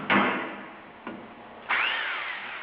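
Drill driver loosening a stuck nut on a Bridgeport mill variable speed drive, giving three close whirring bursts, the first and last sustained with rising pitch and a short blip between, no talk.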